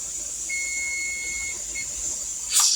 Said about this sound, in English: Now the timer's fixing to go off